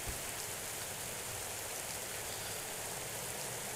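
Steady rain ambience from the Pro Cycling Manager 2022 cycling game during a wet Alpine race stage, a continuous soft hiss of falling rain with no talking.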